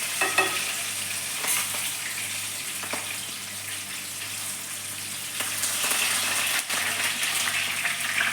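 Spices crackle and spit in hot coconut oil: a steady, close frying hiss broken by scattered sharp pops and spits, with no voices.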